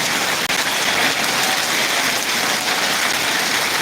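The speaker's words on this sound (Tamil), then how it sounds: "இன்றைக்கும் நல்ல ஒரு மழை வந்து ஆரம்பிச்சிருக்கு இப்போ பார்த்தீங்கன்னா காற்றே இல்லாமல் மழை வந்து பெஞ்சிக்கிட்டு இருக்கு" Steady, windless rain falls in Ariyalur, a continuous even hiss of drops on surfaces that holds throughout with no voices.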